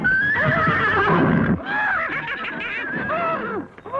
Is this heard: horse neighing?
yes